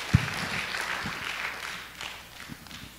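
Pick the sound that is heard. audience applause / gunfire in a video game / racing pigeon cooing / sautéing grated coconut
audience applause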